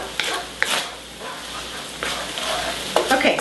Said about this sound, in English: Okay, so I have stirred in that coconut or the curry paste